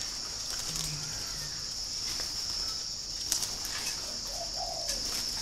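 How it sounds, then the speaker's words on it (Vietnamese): Spotted doves cooing in soft, low phrases, a few brief calls set against a steady high hum of insects, with occasional faint chirps from other birds nearby. "Mà đây là những chú chim Nhật"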